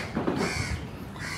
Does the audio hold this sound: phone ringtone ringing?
no